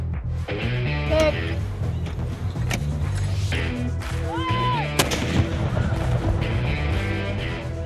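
Skipper, the Virginia Tech Corps of Cadets' cannon in use since 1963, fires near and loud at a football game: sharp booming blasts stand out over a continuous crowd and band din, with brief overlapping voices.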